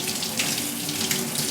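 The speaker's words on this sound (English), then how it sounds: "you rinse your chicken." Cold tap water runs in a steady, close rushing stream from a faucet over raw, trimmed chicken cutlets being rinsed at a sink.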